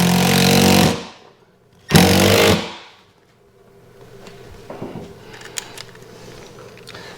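Power drill driving a screw through a projector-screen bracket into a wall stud, two loud close bursts of whirring motor, the second shorter, followed by quieter handling clicks and taps.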